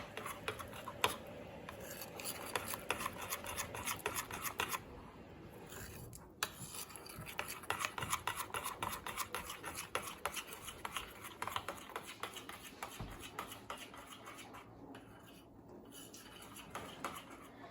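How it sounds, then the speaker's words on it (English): Vegetable oil and ingredients mixed by hand in a bowl for a caramel-topped treat, giving soft, steady rubbing and scraping with occasional light clinks of utensil on dish, faint and close, with no talking. "Now we're going to mix it all in."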